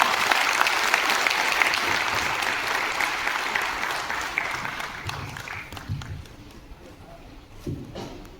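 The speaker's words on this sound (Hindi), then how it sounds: "जोरदार तालियों से अभिनंदन करेंगे आप सभी" Audience applause welcomes Acharya Gautam Khattar at a Sanatan speech gathering: a dense wash of clapping from a large crowd that holds steady, then thins and fades toward the end with a few scattered claps.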